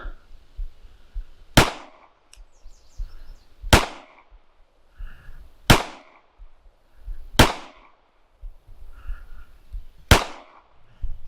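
Five sharp, loud pistol shots fired with the support hand only at targets on a range, spaced roughly two seconds apart, each a crisp crack with quieter handling sounds in between.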